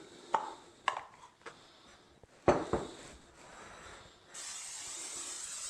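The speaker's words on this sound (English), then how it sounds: "we're going to spray it with some baking spray" A few soft clicks and taps, then a steady, hissing spray of baking spray into a bowl runs continuously for over a second at close range.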